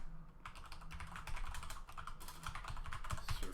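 Steady typing of code on a computer keyboard: fast, close clicking keystrokes in continuous runs with brief pauses, quiet and without talk.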